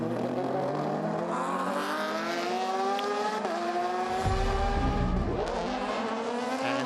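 LMP2 race cars scream past the Gulf Racing Porsche at Spa-Francorchamps during a six-hour endurance race, engine notes rising and falling as they close in, with a deep roaring pass near the middle before the whine carries on.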